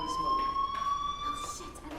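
A steady electronic tone sounds as a fire alarm inside the video game Life is Strange Remastered, a sustained high whine held without a break while faint voices murmur underneath.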